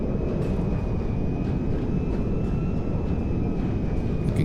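A C-17A Globemaster III jet on landing approach in GTA 5, gear and flaps down: a continuous broadband roar of engines and airflow, steady and loud throughout with a faint thin whine riding above.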